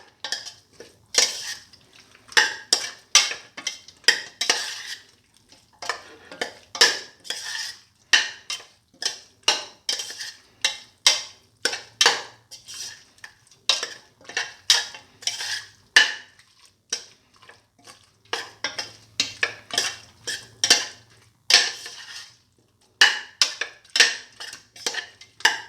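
A chicken neck dish with fenugreek leaves being mixed thoroughly with utensils, with repeated close scraping and clinking strokes in an uneven rhythm against the pan, broken by brief pauses and no talk.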